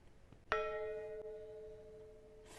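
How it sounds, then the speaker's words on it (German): A large bell struck once, ringing out clearly with a long sustained tone that slowly decays, accompanied by a faint second tap; no voices. "hier so eine riesen Glocke."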